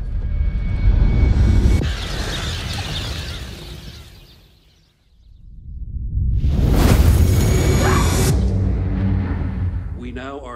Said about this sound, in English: Wait, what is the explosion?